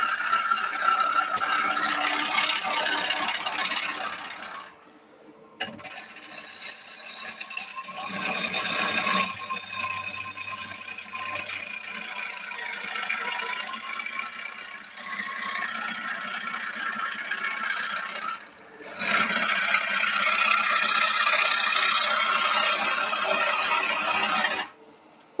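A wood lathe spins a bowl while a gouge cuts wide shavings, making a continuous rough, rattling scrape and whir close by, pausing briefly twice before resuming.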